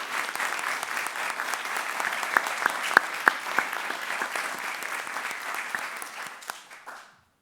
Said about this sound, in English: Let's give our American Legion winners a big round of applause.